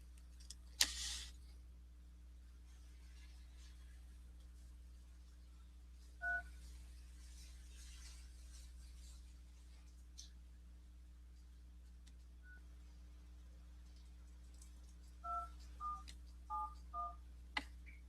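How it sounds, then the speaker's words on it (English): Touch-tone keypad beeps from a personal phone being dialed, a single tone and then a quick run of about six evenly spaced beeps near the end, over a low steady hum in an otherwise quiet room. "So I'll just call him on my personal phone"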